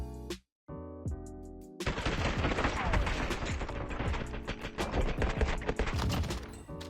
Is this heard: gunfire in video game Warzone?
yes